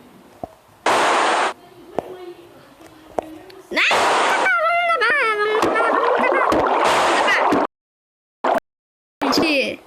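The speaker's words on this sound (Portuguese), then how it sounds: "Mais água. Vou colocar água." Water being placed and flowing in the Craftman video game, heard as bursts of splashing and gushing game effects with chirpy tones, interrupted by brief silences, loud and close.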